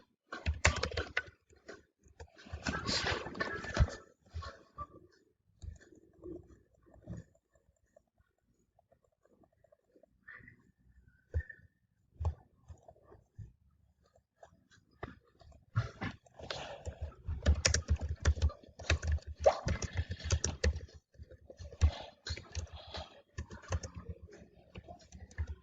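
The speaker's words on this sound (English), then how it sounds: "so I just type like this" Rapid typing on a computer keyboard, bursts of close, crisp key clicks separated by short pauses, with a quieter stretch in the middle before dense clattering resumes, no talking.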